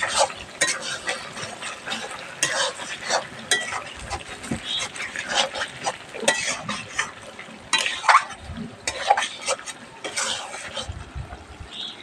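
Duck meat being stirred and fried in a pan for a red bhuna curry: repeated scraping and clattering strokes of a spoon over a steady sizzle, close and fairly loud.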